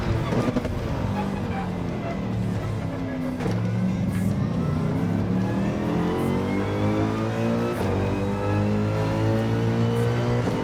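Race car engine in Gran Turismo 7 runs a fast lap down the track, a loud continuous roar rising and falling through gear changes across the whole stretch, with no speech on top.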